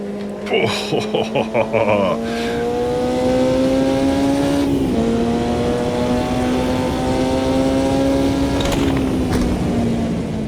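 Racing car engines in a sim racing game wail loudly near the listener, rising in pitch, dropping at shifts and climbing again, with a brief burst of clicks and a passing car, and no talking.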